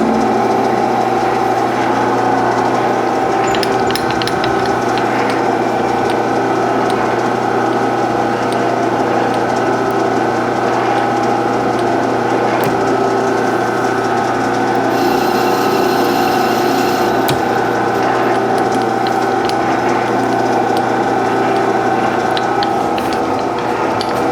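A lathe takes a light two-thousandths cut on the cap of a toolpost grinder, a loud, continuous mechanical whir with steady humming tones and gear noise throughout, no voices heard.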